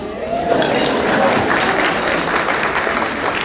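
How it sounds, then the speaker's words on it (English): Church audience clapping for a speaker being introduced, steady applause from a sizeable crowd in an indoor hall, with voices mixed in underneath. "You can clap."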